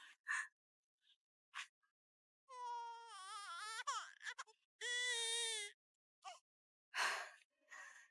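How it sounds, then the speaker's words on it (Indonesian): An infant cries in a dramatic series scene, with two long, loud wailing bursts broken by short gasping breaths and sighs. "Suara bayi menangis."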